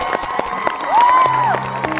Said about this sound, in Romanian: încă o dată, aplauze pentru Răzvan Matache